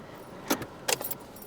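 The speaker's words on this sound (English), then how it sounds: "let me take these keys out here" Car keys jangling close by in two quick metallic bursts with a short pause between them, bright and loud over a quiet background.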